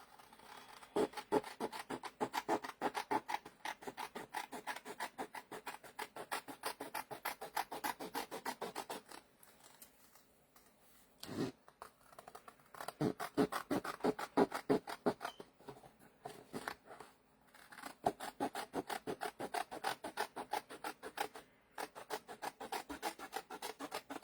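Scissors cutting a paper piece for a junk journal, close rapid rasping snips in long runs, broken by brief pauses and a louder crinkle, with no talking.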